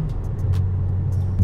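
A car engine rumbles loudly and steadily close by, with a low, throaty drone that swells slightly at the very end.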